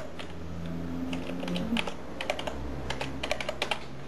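Keys clatter on a computer keyboard in a quick run of light, close taps, followed by a few separate sharper keystrokes, over faint background noise.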